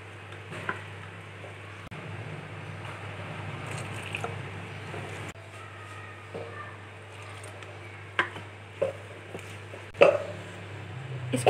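Soft chicken bread dough is kneaded by hand, giving quiet, irregular squishing and sticky slapping sounds with a few sharper wet squelches toward the end.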